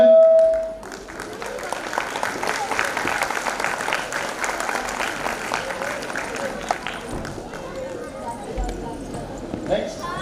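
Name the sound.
audience clapping for prize winner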